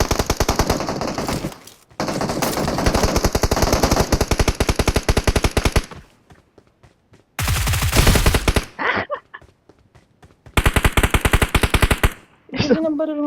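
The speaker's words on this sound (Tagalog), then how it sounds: "Ba't parang umingay itong mga baril na to?" Bursts of automatic machine gun fire in a video game, loud rapid volleys lasting a few seconds each, separated by short silences, with a brief tonal game sound near the end.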